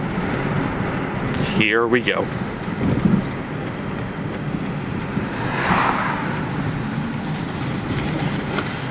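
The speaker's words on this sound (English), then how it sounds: "And look, it's this truck again." A truck rumbles past on a road through steady traffic and wind noise, swelling gently around the middle before fading; someone speaks briefly near the start.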